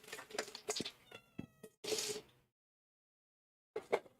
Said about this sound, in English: The cat has just come down the stairs in front of me and jumped up.